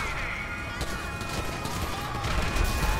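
Gunfire rattles in GTA V Online amid a dense, noisy game soundscape, a continuous wash of shots and rumble with faint tonal effects running through it.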